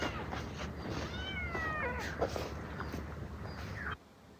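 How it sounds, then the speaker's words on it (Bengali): A kitten gives a few thin, rising meows from inside a well over a steady low background hum, fairly faint and somewhat distant. "এখানে বিড়াল বিড়ালের শব্দটা আসে কোথা থেকে?"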